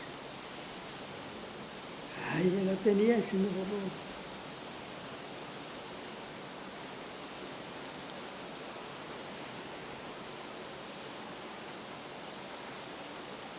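Rain pouring down in a steady, even rush of water that fills the whole stretch, with a short burst of talking over it early on.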